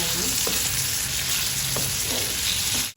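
Coriander chicken with salt sizzles loudly and steadily in a pan while being stirred, with a few soft scrapes of the spoon over the constant frying hiss and no talking.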